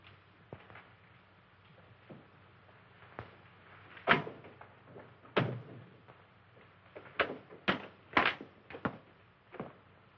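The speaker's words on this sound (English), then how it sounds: "Open that door." An old door in a haunted house being opened in a 1940 film, with scattered knocks, creaks and sharp bumps spread over several seconds against a quiet, faintly hissing background.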